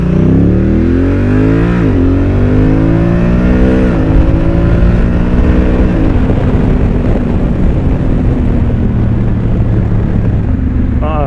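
A 2017 Suzuki V-Strom 1000 XT motorcycle fitted with an Akrapovic exhaust accelerating hard in its sportiest mode: a loud, close engine roar rising in pitch through several gear changes, with heavy wind rumble throughout.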